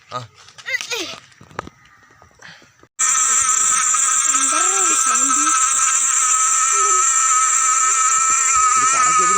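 Honeybees buzzing around a hive make a loud, continuous drone that starts abruptly after a few seconds of people talking, and voices continue faintly beneath the buzz.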